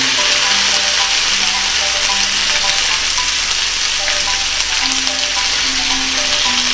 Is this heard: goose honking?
no